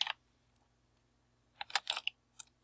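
Computer keyboard keys tapped in a short quick burst of clicks after a pause, entering text in an online image editor; close and fairly soft, with no talking.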